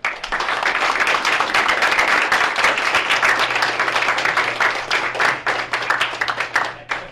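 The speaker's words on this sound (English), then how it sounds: "here we have a round of applause for" An audience at a high school event claps in warm applause, individual hand claps audible within the steady crowd sound before it thins out and stops.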